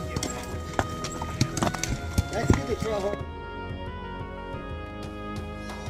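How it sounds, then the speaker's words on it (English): Horses walking on a trail, hooves clip-clopping in an uneven, close rhythm with a whinny, then the steps fade into a steady background hum. "Love the horses."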